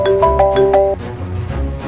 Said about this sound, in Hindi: सर करण का फोन आ रहा